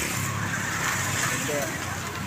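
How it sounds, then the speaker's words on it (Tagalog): Steady roar of road traffic on a highway in Carcar City, continuous broadband rumble of passing cars and vehicles at moderate loudness, with a voice talking over it. "Ito yung highway nila."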